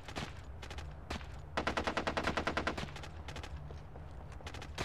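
Rapid machine-gun bursts in SOCOM: U.S. Navy SEALs Combined Assault on a snowy Frostbite mission, with a sustained rattling burst in the middle and scattered single shots around it, loud and close.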